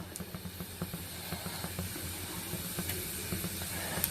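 Mustard seeds and spices sizzle and hiss softly in hot oil in a pan, a quiet steady crackle with small pops spread through the whole stretch.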